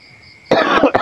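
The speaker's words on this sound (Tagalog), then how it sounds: "pasensya na at medyo inuubo po yung lingkod" A man coughs twice in quick succession, close and fairly loud, after a moment of quiet room tone.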